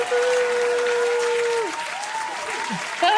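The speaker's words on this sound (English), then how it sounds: "A second clap." A small audience applauds during the welcome of a live talk show, giving a steady, dense patter for about three seconds with a faint sustained tone running underneath.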